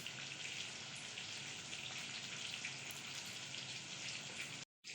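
Masala chicken pieces sizzle and fry steadily in a pan with chilli powder, cumin, coriander, garam masala and cashew powder, a continuous close crackling hiss that cuts out briefly near the end.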